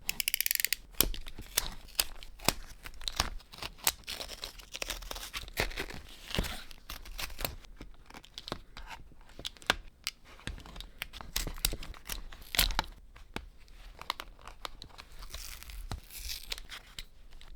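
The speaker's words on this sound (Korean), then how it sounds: "일단 인조가죽 제거하고 다음 작업하겠습니다" Brittle, powdering synthetic leather is torn and peeled from a Sennheiser HD599 headphone headband in rapid crackling rips, with scratchy scraping and crinkling bursts continuing steadily at close range.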